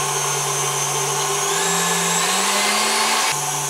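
An electric mixer beats egg whites for dacquoise, a loud steady motor whine that climbs in pitch as the speed is raised, then drops back abruptly near the end.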